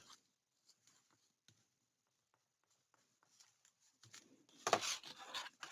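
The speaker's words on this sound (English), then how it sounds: "Burnish this one down a little more." Paper pressed and rubbed down onto a handmade holiday recipe craft album with a burnishing tool. Soft, faint scattered rubs at first, then a louder run of dry scraping strokes near the end, close and with no talking.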